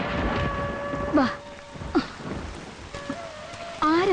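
Steady rain falls as a constant wash of noise, with short bursts of voices in the scene.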